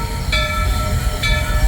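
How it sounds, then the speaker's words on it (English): A theme park ride train runs steadily and loudly up close, with a continuous rumble and two brief higher-pitched squeals or whistles sounding about a second apart. "they got the train working again"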